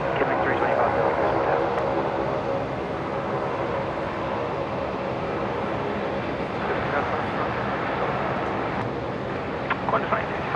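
An aircraft takes off from runway 01 left at Brisbane Airport, a steady, loud broadband engine roar sustained throughout, with radio talk over it.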